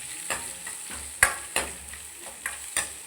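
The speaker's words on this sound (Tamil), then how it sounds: "இது மாதிரி நல்லா வெங்காயம் வதக்கி எடுத்துக்கணும்" Chopped big onions frying with cinnamon, cloves, cardamom, fennel and cumin in a pan for paneer gravy, a steady close sizzle broken by several sharp scraping stirs of a spoon at irregular intervals, no voices.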